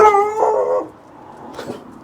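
A dog lets out a short, drawn-out howling bark up close, followed by a quieter yip a moment later.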